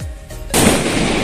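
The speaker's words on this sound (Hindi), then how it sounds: "स्काई शॉट लगा।" A sky shot firework goes off at a street procession, a sudden loud close bang followed by a sustained rushing hiss.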